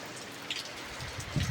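Steady rain pattering down on an August afternoon after a month and a half of dry weather, soft and even with a few slightly louder drops near the end and no voices.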